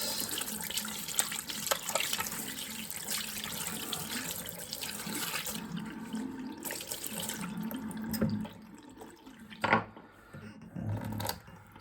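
Water from a sink tap runs over a Ropp cherrywood pipe as it is rinsed: a steady close splashing stream with brief interruptions and shifts as the pipe moves under the flow.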